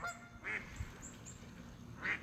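A few geese honking at a distance, two faint separate honks about a second and a half apart over low background noise.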